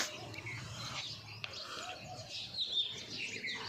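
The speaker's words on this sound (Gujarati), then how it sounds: "જોઈ લ્યો પક્ષી બક્ષી ઉડે છે।" Birds chirp faintly on a village farm morning, with scattered short tweets and calls rising over a soft, steady outdoor background.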